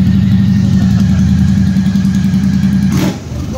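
A Royal Enfield Super Meteor 650 parallel-twin cruiser engine runs with its silencer removed, only the bare exhaust pipe left: a loud, close, steady deep rumbling throb that drops off slightly near the end.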